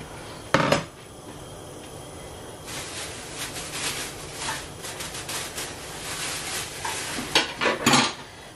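Shrimp are stirred into a pot of Thai lemongrass soup, heard as a sharp clink of the utensil against the pot followed by a steady, wet scraping and swishing of stirring, close up and with no talk.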